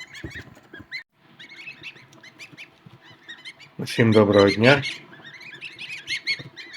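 High, thin peeping from three-day-old goslings runs throughout, with a brief louder burst of calls midway; a person speaks a short greeting early on.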